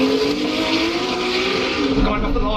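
Race cars, including a Nissan Skyline R33, rev hard and launch off the line, engines droning loudly with a rising low rumble at the end, with an excited voice talking over it.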